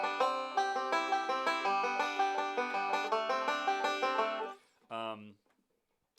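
A banjo picks an easy beginner-style tune in steady rolling notes with bright plucked harmonics, played alone and close, ending with a short final strummed chord.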